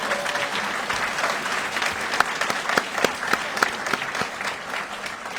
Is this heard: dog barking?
no